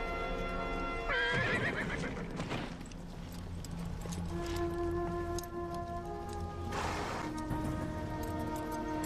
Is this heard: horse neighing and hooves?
yes